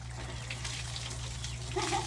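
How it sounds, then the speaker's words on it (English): Water poured from a bucket over a person splashes and trickles steadily at close range, a soft continuous wash with a slightly louder surge near the end and a faint voice. "now you have the bucket and you just pour it on"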